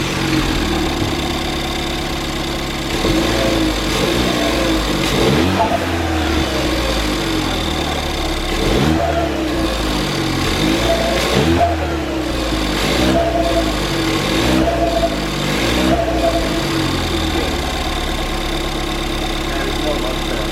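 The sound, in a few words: car engine started with stock crossover and blast valve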